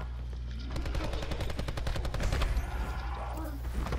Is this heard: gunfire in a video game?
yes